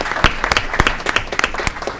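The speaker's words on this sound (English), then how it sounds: "let's give him a round of applause just for willing to serve." Steady applause fills an Aurora city council meeting room, many hands clapping at once with crisp, irregular slaps from near and far, with no voices over it.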